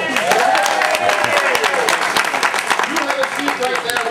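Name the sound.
crowd applause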